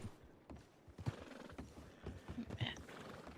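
Video game horses walk with soft, irregular clip-clop hoofbeats and a neigh or two, all faint and fairly close, with no one speaking.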